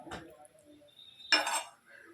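Fish curry is ladled over rice in a home lunch dish. Two short bursts of utensil clatter and metal clinking stand out close by, with quiet gaps between them.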